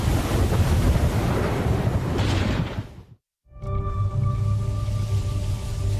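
Rough, unstable sea with rogue waves in the Bermuda Triangle roars in a dense, continuous wash of surf and wind noise, briefly cut to silence before the churning water resumes.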